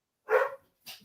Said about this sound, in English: I don't know if you heard my dogs there in the background there.